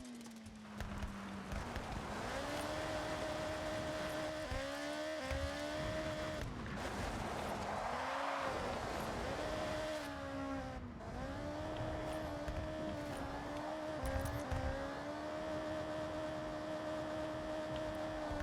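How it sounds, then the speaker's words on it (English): A small car with a tiny engine revs up into a high, strained whine, the pitch climbing and dropping several times against a steady hum, heard from inside at moderate volume. "because of its tiny engine, it just gets up to like full screeching madness very quickly"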